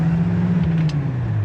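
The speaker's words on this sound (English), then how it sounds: "I'm just going to drive it just normal first here." A 1967 Pontiac Firebird driving at an easy pace, its engine giving a steady low drone whose pitch slowly drops over a short moment.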